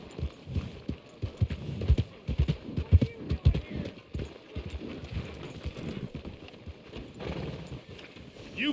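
Horse hooves from Red Dead Redemption II clop in a quick, uneven rhythm that is close and fairly loud, with speech and other game sounds layered over the hoofbeats.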